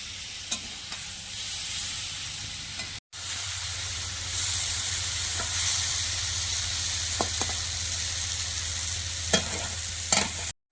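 Rui fish pieces frying in spiced masala, with a steady oily sizzle and hiss, a brief pause, then louder frying and occasional clicks of stirring with a spatula.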